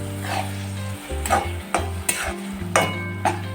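Tomato paste being stirred into Andhra-style chicken curry in a pan, with repeated scraping strokes of a spoon against the pan over a low sizzle, close and fairly loud, no speech.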